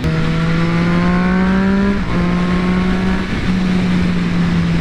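Triumph Daytona 675R motorcycle engine held at a steady high rev while riding, loud and close, with a brief dip in pitch near the middle and another short dip late on.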